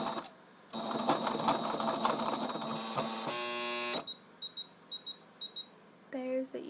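Singer sewing machine with a bobbin problem and thread tangled underneath, running in a dense mechanical whir that jams into a strained grinding buzz, then a string of short stuttering beeps and clicks, close and loud.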